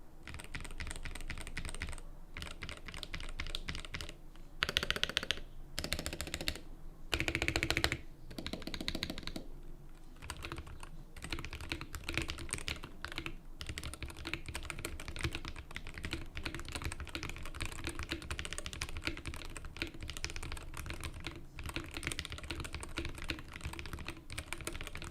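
Rapid clacky typing on a Melgeek MADE68 Pro mechanical keyboard continues throughout, with bursts of louder key strikes and no voices.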